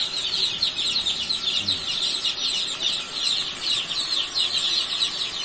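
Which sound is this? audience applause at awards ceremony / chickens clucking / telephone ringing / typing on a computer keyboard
chickens clucking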